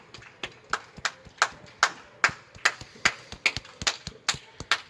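Hands clapping for the NHS during the 2020 lockdown, a run of sharp, fairly close claps in an irregular rhythm, about four per second, with brief pauses and little else beneath.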